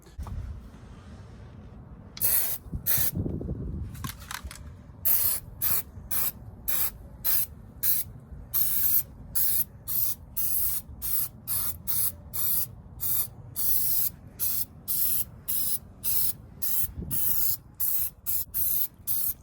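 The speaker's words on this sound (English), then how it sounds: "this coating is going to stick on there and hopefully prevent it from rusting" Aerosol rust-prevention coating sprayed onto the underside of a first-generation Toyota Tacoma truck: many short, loud hissing bursts in a steady on-off rhythm, close up, with no talking.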